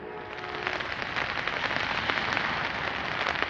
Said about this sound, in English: I think you can hear the raindrops on the umbrella.